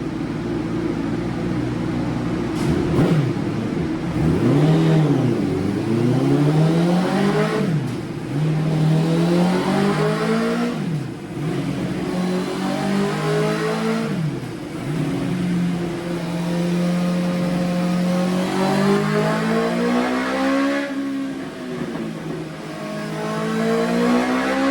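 A motorcycle on a dynamometer is revved hard and repeatedly: the engine note climbs and drops in a series of loud, continuous sweeps with no talking.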